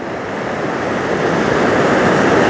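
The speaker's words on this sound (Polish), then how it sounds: "A my podziwiamy rzekę." A river rushes steadily during a family walk along its banks, a broad, continuous wash of flowing water that grows slightly louder over the span, with no voices.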